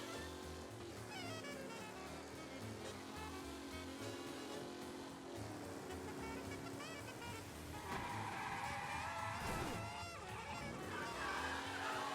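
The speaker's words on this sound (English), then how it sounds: "That wasn't me that just crashed. The car fishtailed by itself." A car in the video game Mafia skids and crashes, heard as a continuous engine and tyre roar with a sharp impact burst near the end, under dense game music and background noise.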